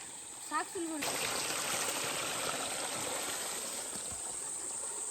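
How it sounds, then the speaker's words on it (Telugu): Water trickles and gurgles steadily close by from under a rock in hill country, a continuous bright splashing flow with a short vocal sound near the start. "ఆహా బండ కింద నుంచి వస్తున్నాయి కదా వాటర్"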